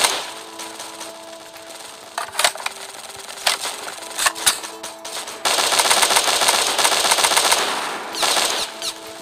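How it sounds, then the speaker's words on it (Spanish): Automatic gunfire rattles in the video game Battle Forces, with scattered sharp shots and short bursts, then a denser, louder sustained volley partway through, with no talking. "Aquí todo el mundo utiliza el disparo automático"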